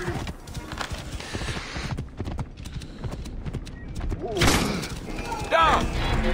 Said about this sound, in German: So, wir reiten schon mal. Reitet auf dem Kamel sogar.